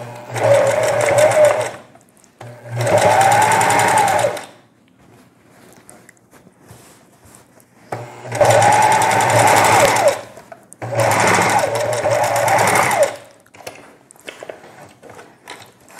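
A domestic sewing machine stitches a straight seam on fabric for a face mask and cushion set, running in four sustained bursts of a few seconds each with quiet pauses between, close and fairly loud with no talking.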